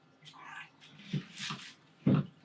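A house cat meows in several short, loud bursts indoors, close to the listener, with brief gaps between cries and a sharper yowl near the end.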